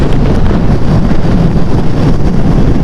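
Strong wind buffets the microphone in a constant loud roar, with gusty rumbling low end throughout and no voices.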